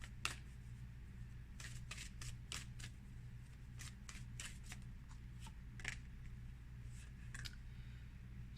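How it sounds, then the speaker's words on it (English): Oracle cards are shuffled and drawn in a run of quick, crisp riffling snaps and flicks, close and fairly quiet, bunched into irregular bursts over a low steady room hum with no talking. "So let's pull one more card here."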